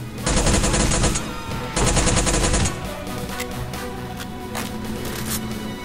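Modded automatic weapon fire in The Stalin Subway video game: two loud, rapid bursts of roughly a second each, separated by a short pause, then quieter game ambience.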